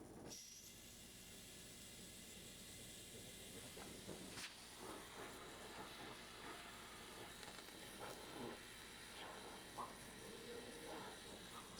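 A torch hisses steadily and quietly while heating a rusted bolt on a Volkswagen barn find, a low continuous rush with a few faint clicks and knocks.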